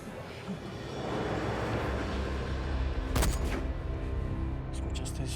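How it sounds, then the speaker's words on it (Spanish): A sharp gunshot cracks once, fairly distant, over a steady background hum, followed by a few fainter, brief echoes. "¿Escuchaste eso? Como un disparo."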